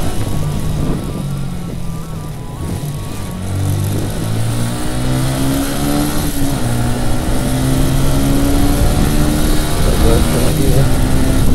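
Motorcycle engine revving hard toward top speed on a busy road, a loud continuous engine roar climbing in pitch through the gears, with strong wind buffeting and a voice speaking over it.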